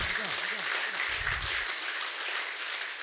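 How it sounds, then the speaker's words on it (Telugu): A seated group at a mass meditation gathering claps together at the session's close, a sustained, even wash of applause filling the room while a voice briefly speaks over the start. "గట్టిగా చప్పట్లు కొడదాం ధ్యానానికి."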